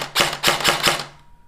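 An airsoft gun running on a lithium-ion battery fires four quick semi-automatic shots, each a sharp mechanical crack with a short ring after it, spaced evenly and close, then stops.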